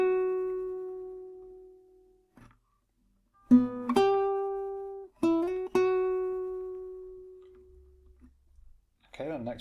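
Electric guitar picking out the opening phrase of the first solo of a song: a long sustained note, then a few clean plucked and restruck notes with slides, separated by pauses, played alone up close.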